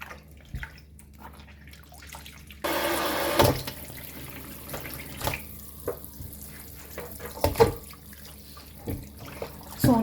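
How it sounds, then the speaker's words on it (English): Tap water runs into a kitchen sink while pork meat is rinsed under it, a steady close splashing rush broken by handling thumps and clatter. "I continue to wash my meat until I am satisfied that it is clean enough to my desire"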